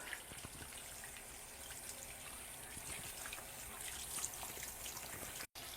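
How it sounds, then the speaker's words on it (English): Tap water runs steadily into a sink while hands are rinsed, a continuous soft trickle and splash close by, fairly quiet and alone. "I'm leaving the water on because you don't want to turn it off the handles with your clean hands"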